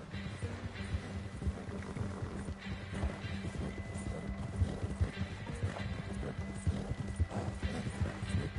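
A horse gallops in the Red Dead Redemption 2 Wild West video game, rapid hoofbeats drumming steadily under low game ambience and faint background sound.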